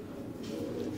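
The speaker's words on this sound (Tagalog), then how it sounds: "So ayan, ito yung hen na pinaris namin kay Bulak" A pigeon hen cooing in a loft, a brief, soft, low coo lasting about a second, faint against quiet background.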